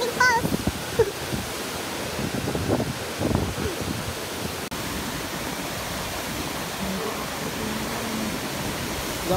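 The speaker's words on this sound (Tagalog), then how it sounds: "Ang lakas ng hangin guys, sobra." Strong wind roars steadily near a waterfall on Mount Romelo, a dense broadband rush that fills the whole stretch, with a few louder gusts early on.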